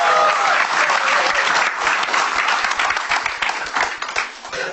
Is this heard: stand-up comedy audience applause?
yes